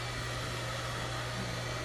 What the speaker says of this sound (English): She does not like the blow dryer.